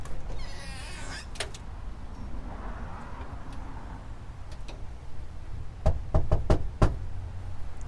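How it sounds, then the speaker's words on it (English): Sharp knocks on a door, a single rap early then a quick burst of several loud knocks near the end, over a quiet background. "Okay, I knocked."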